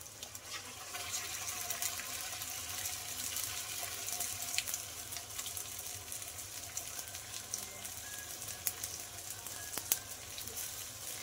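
A ground spice paste of cumin, ginger, garlic and chili goes into frying goat meat, giving a soft, steady sizzle and watery bubbling at a quiet level.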